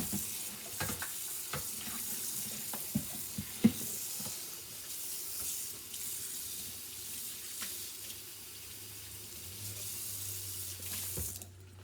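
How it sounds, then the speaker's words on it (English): Tap water runs steadily into a kitchen sink for about twelve seconds while a pot lid is scrubbed clean during chorizo chili cooking, with a few light clinks and knocks over the close, continuous splashing. "So I'm going to wash this lid a little bit more because there's still gunk on there."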